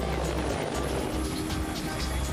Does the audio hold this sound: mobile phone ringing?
no